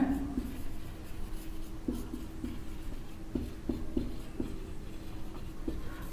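Chalk or marker strokes on a classroom board during an electricity lesson on power, a few short scratchy taps and strokes scattered through the clip under a steady room background with faint talk.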